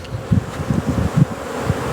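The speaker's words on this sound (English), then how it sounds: "That's a box of bees." Honey bees in an opened hive box packed with about eight frames of clustered bees, a close, steady buzzing hum with soft pulsing swells and no talking.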